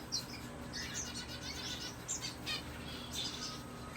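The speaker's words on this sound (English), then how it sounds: "even birds, the starfinch and the dove, they're just sitting in the sun" Star finch and dove calling in the sun, with bright, thin chirps and tweets scattered through the clip over a steady low hum, at moderate distance.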